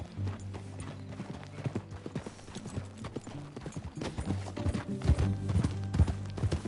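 A horse in Red Dead Redemption 2 trots along with a steady, rhythmic clip-clop of hooves, close and clear, growing a little louder toward the end over a low background hum.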